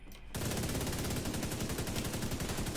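Sustained rapid gunfire from a weapon in the video game The Division 2, a dense, continuous automatic burst that starts abruptly after a brief quiet moment and stays loud throughout.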